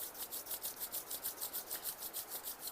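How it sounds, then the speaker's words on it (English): Palms rub briskly together in a quick, even back-and-forth rhythm, roughly six strokes a second, soft but close, with no voices. "Rub your hands."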